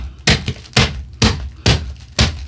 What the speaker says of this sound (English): go ahead and put the lid on, and snap it down.